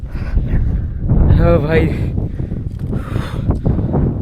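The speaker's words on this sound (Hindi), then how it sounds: "हवा चल रहा है" Strong wind blows across an open hilltop at Nakta Pahad in Jharkhand and rumbles loudly into the microphone. A voice speaks over the steady gusting.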